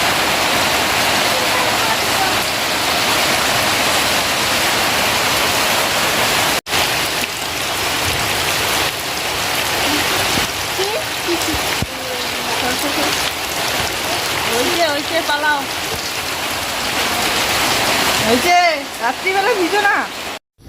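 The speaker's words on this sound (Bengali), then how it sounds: "এত বৃষ্টি হচ্ছে যে এই ঘর থেকে ওই ঘর কথাই শোনা যাচ্ছে না" Very heavy rain pours down in a dense, loud, steady roar, with voices speaking faintly beneath it toward the end.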